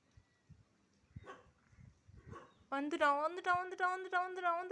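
A pet dog barks and whimpers in a quick run of close, loud yips that start abruptly after a stretch of quiet voices talking nearby.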